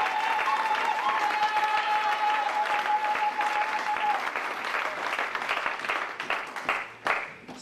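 A church congregation applauding the Lord, sustained dense clapping throughout, loud and close, with a faint tone in the first half and the applause thinning near the end.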